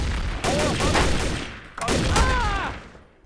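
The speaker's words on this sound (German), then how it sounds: "Ich schieße ihn jetzt ab." Rapid bursts of gunfire in the online game Trouble in Terrorist Town, two dense volleys of shots close up with a short gap between them, loud and crackling.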